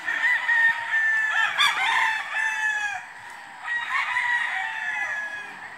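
A rooster crows outdoors in the morning on a jogging route, two loud, drawn-out cock-a-doodle-doo calls with clucking fowl around, close and clear, with no talking.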